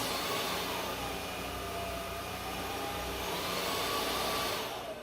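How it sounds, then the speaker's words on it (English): A Trucozie cordless vacuum cleaner runs steadily, a loud, close, continuous whooshing motor hum that stays level throughout and fades slightly at the very end. "So I'm going to do a little bit of vacuuming here"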